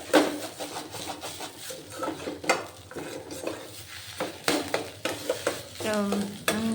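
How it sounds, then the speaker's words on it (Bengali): Chopped tomato being stirred into a frying cauliflower filling, with a spoon scraping and knocking against the pan in quick, close strokes over a continuous sizzle. "এবার টমেটোর কুচিটা দিয়ে দিলাম দেখুন খুব সুন্দরভাবে মিক্সড হয়ে গেছে এর মধ্যে"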